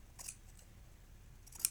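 Two crisp snips of fabric scissors cutting excess cloth from a hem corner, one near the start and a sharper one near the end, in a quiet room.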